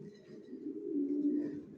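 Coos from a new adult pair of original Johnson long-line racer pigeons, one low, throaty call swelling and fading over two seconds, close and clear in a quiet room.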